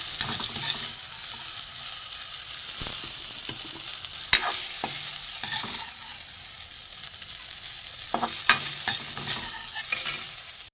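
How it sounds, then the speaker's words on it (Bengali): Steady crackling sizzle of panch phoron (five-spice mix) frying in hot oil, with occasional scraping clicks from stirring, close and continuous with no voices. "তেলে পাঁচ ফোড়ন দিয়েছি এবার আমি পাঁচ ফোড়নটা ভাজা হয়ে গেছে"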